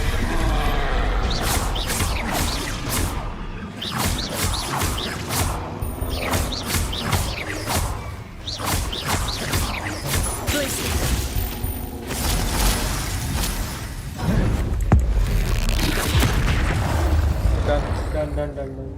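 Confringo explosive spell blasts crackle and boom repeatedly in the video game Hogwarts Legacy, dense and loud amid combat effects and game sounds, with someone talking over the action.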